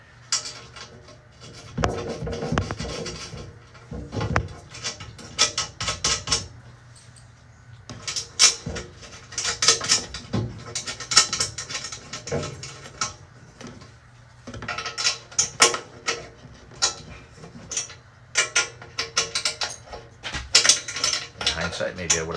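Nuts are turned by hand on a Zinus Smart box spring frame during assembly, giving close, intermittent metallic clinks, scrapes and rubbing in irregular bursts, with quiet pauses between.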